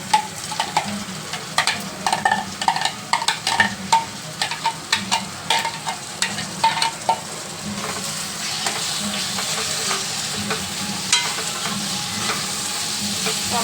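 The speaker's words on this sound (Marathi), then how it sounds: "टोमॅटो पण सॉफ्ट होईपर्यंत भाजून घ्यायचे चांगले" Onion and tomato frying in a pan for a homemade chicken gravy, with a spoon scraping and stirring in quick irregular strokes over a constant loud sizzle that settles into a steady hiss once the stirring stops.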